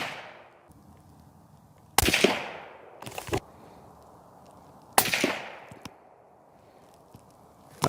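Rifle shots from 55 grain Civil Defense hollow point ammunition, two sharp loud cracks a few seconds apart, each trailing off in an echo, with brief clatter after each and quiet between.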